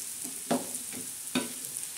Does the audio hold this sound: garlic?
yes